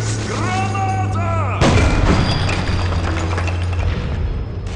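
A grenade goes off in the World War Heroes shooter, a sudden loud boom that cuts in mid-clip over steady battlefield rumble, distant gunfire and a droning engine-like hum.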